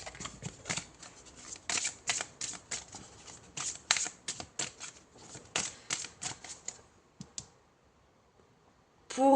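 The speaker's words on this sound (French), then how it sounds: "Allez, on prend deux autres cartes," Tarot cards being handled and drawn one by one, a rapid series of crisp papery flicks and snaps in irregular bursts, close and clear, falling quiet near the end before one last rustle.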